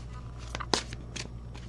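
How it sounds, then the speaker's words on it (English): Game of Thrones tarot cards being shuffled, a few soft separate riffles and slaps at low volume over a steady background hum. "Okay, let's shuffle."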